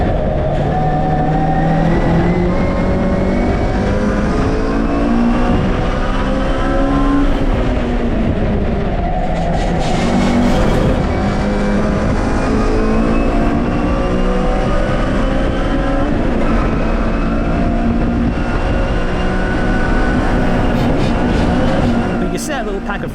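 Classic Mini race cars at Brands Hatch, a loud, continuous engine drone from inside the car, pitch rising and falling with shifts, with someone talking over it throughout.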